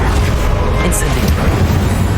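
Incendio fire spell blasting in Hogwarts Legacy, a dense loud roaring burst of flame sustained across the moment amid battle noise, with voices shouting spell names around it.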